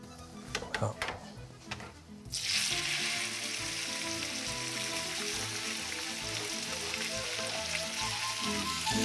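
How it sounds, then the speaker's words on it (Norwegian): After a few knocks and brief clatter, hot oil erupts into a loud, continuous sizzle of frying that stays steady and close until the end. "Nå koker oljen, Tom."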